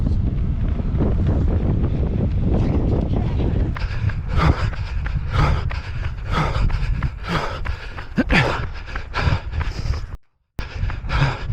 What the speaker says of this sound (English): Just have a listen to that wind that we're fighting.